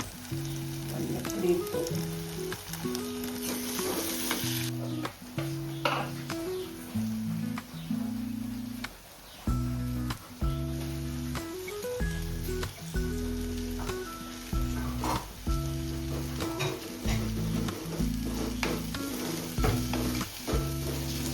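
Spice powders are stirred into a frying base for a Kochi style fish curry, bringing a steady sizzle and crackle under repeated scraping strokes, while a looping musical backing plays throughout.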